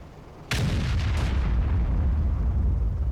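A SU-5 self-propelled artillery gun in World of Tanks fires a shell and it lands nearby with a sudden heavy boom, followed by a deep rumbling roar that lingers loud for several seconds.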